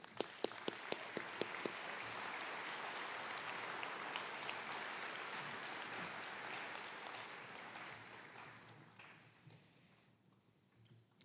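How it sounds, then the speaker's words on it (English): Audience applause at a spring commencement ceremony as trustees stand to be recognized: a few sharp early claps swell into sustained, dense clapping that fades out toward the end. "let's give them a round of applause"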